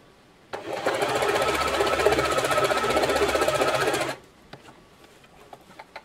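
A Janome sewing machine stitches a cross stitch in one steady, fast-running mechanical burst lasting a few seconds, close and fairly loud, then stops, leaving a few faint clicks.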